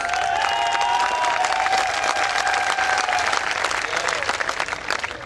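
An audience at a Hindi comedy poetry gathering claps steadily in dense, sustained applause, with a few voices calling out through the clatter.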